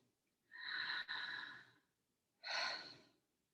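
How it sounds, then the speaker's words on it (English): A close, slow inhale lasting over a second during a breathwork session, followed by a shorter breath a moment later, both soft and airy in an otherwise quiet room. "One more deeper breath in."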